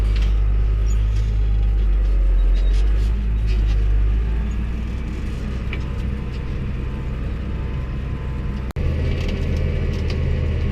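Tractor engine rumbling steadily at close range while reversing during field ploughing, a continuous low drone with a brief sharp dropout near the end.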